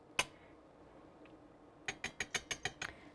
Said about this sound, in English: Okay, that's pretty whisked up.